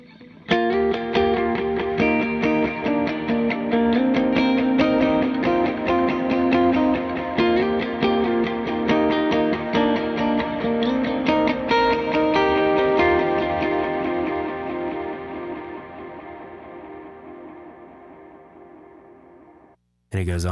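Electric guitar through a Mercury X delay preset with the reverb switched off. Sustained notes ring out with repeating echoes, then the long delay tail fades gradually into near silence.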